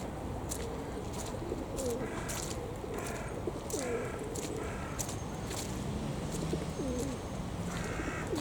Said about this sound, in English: Here's the humble pigeons.